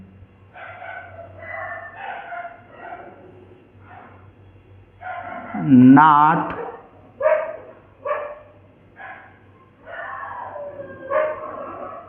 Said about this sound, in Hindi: कुत्ते वगैरह भौंक रहे थे तो उनको भगाने गया था।